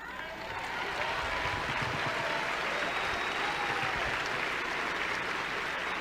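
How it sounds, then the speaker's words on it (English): Sustained audience applause fills the room, a dense, even wash of clapping from a large crowd that holds steady for several seconds without pause, moderately distant. "I wasn't expecting all the clapping."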